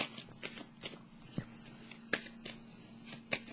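A tarot card is drawn from a deck in a quiet room: soft, close papery shuffles and sharp card flicks in a sparse, irregular rhythm, with no speech.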